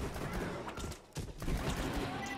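Rapid pistol gunfire from the pirate game Captain Scarlett and Her Pirate's Booty, a dense run of shots with a brief pause near the middle before the volley resumes, loud and steady.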